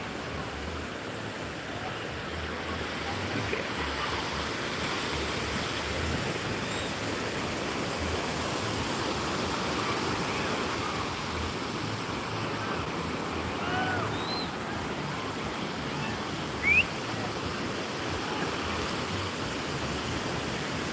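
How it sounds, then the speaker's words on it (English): Ocean surf and strong wind at a surf competition at Kuta, a steady broadband roar of breaking waves and gusts filling the whole stretch, loud and unbroken with no talk. "maybe my voice is not so clear because the wind so strong, and also the voice from the wave is so strong too"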